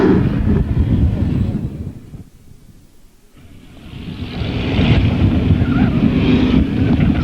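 A pack of race cars in the 1994 Flying Tigers heat roars past on a short oval track, loud and close, fading briefly before the engine noise swells back to a full, steady roar, with wind buffeting.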